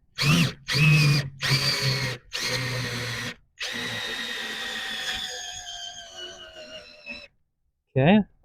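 Cordless impact tool spinning wheel nuts off a flat tire at night, several loud close bursts with short pauses between them, then one longer whirring run that fades as the battery weakens, followed by a brief squeal.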